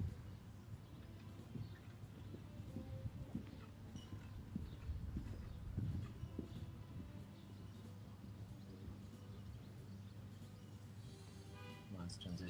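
Horse hooves cantering on the footing of a dressage arena at a European championship, a soft rhythmic clip-clop in repeated groups, fairly faint, with a voice talking over it.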